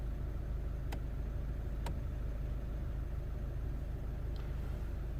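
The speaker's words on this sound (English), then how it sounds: "I have the car here idling for a little bit" A Volkswagen Golf 1.6 TDI diesel engine with multiple fault codes idles steadily, a faint, even low rumble running throughout with a couple of brief clicks and no voices.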